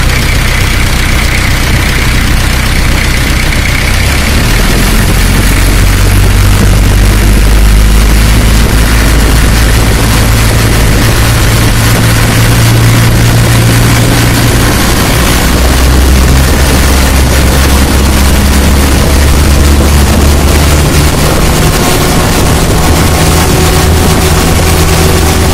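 A loud car engine idles, then revs up and holds at higher speed during a charging system check, its deep drone rising and shifting over a long stretch.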